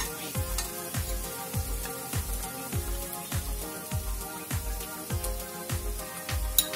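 Turmeric powder frying in oil in a pan for Kerala chicken curry with potato, a steady close sizzle over a regular series of about a dozen rhythmic stirring strokes, each a soft thump against the pan, with no speech.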